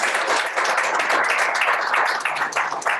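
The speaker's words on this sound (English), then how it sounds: "All right, one more round of applause." Audience applause at a community meeting in Clearwater and St. Petersburg, Florida, a steady dense patter of many hands clapping at close range that holds evenly for a few seconds, with no voices standing out.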